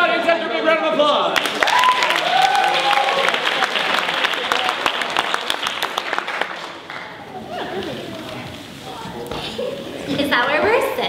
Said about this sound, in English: Let's start in the audience after a big round of applause